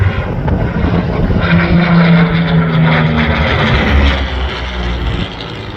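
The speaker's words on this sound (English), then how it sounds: "P-40, the Kitty Hawk, yeah. the Warhawk," A P-40 Kittyhawk Warhawk propeller fighter passing at an air show, a loud rumbling engine drone with wavering tone that swells and then fades slightly toward the end, heard from the ground.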